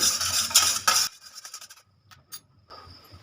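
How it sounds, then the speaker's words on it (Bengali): Agar agar powder stirred into water in a pot, a loud scraping, rasping burst for about a second followed by a few quieter, scattered clinks and scrapes and a faint steady hiss at the end. "জলটা আমি গরম বসিয়ে দিলাম তো নাড়তে হবে না হলে আগার আগার পাউডারটা নিচে জমে যাবে"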